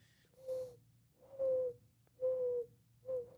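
A dove coos in a steady rhythm, four drawn-out tonal calls separated by short pauses, fairly close and clear over a soft low background hum.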